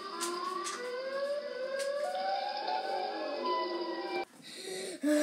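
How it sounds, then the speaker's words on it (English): A siren wails steadily with rising and falling tones, loud and continuous, then cuts off abruptly near the end before a short burst of other noise. "Siren."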